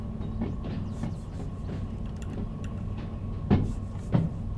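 A locomotive in the Derail Valley train game rumbles steadily along the rails. A low hum runs under faint rhythmic clacks, and two sharper knocks come near the end, with no talk.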